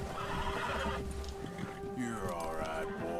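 A horse in Red Dead Redemption 2 whinnies loudly and sustained, with hoof clip-clop and a voice speaking underneath.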